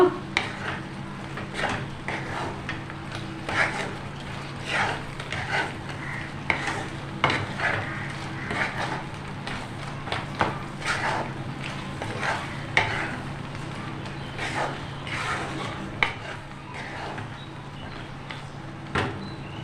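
Raw mango pickle with spices being stirred in a pan, repeated scraping and clinking of a spoon against the metal over a faint sizzle, with a steady uneven rhythm and no speech.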